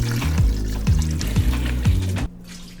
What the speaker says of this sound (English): Add in the leftover marinade and enough water to cover the chicken.